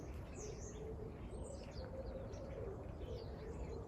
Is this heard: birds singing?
yes